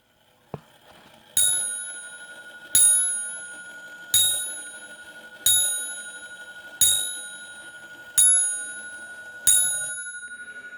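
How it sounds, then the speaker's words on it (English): An 1855 French Vincenti mantel clock strikes its bell eight times at a steady, slow pace, each clear metallic ding ringing out and decaying before the next, close and alone after a small click. "There's the bell."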